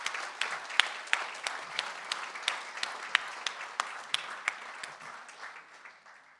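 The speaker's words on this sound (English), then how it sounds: "So if I can ask you please just to acknowledge the entire team at Cape Racing with a round of applause." A seated audience at a Cape Racing chairman's industry address gives a round of applause for the Cape Racing team, steady clapping with a few louder individual claps popping out regularly before it tapers off.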